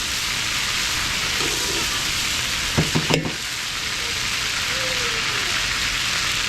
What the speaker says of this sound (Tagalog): So ito, pinrito natin, hanggang sa maluto.